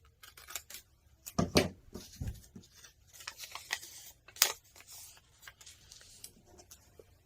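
Scissors cut through fabric for a sewing project, giving a few close, crisp snips and rustles with brief pauses between cuts and no talking.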